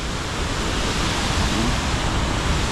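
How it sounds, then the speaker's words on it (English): A waterfall on the Nairobi River roars as a loud, steady, broadband rush of falling water, close and continuous. "There's an amazing waterfall over here."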